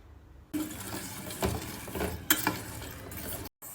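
A utensil stirs and scrapes inside a pot of chickpea dish as it heats on a gas stove, with a few sharp metallic clinks standing out near the middle, heard up close with no talking.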